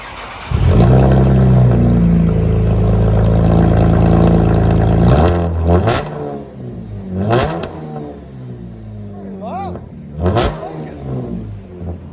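Chevrolet Caprice with a true dual straight pipe exhaust holds a loud, sustained rev, then drops off and blips several more times in short bursts, close and with no talking.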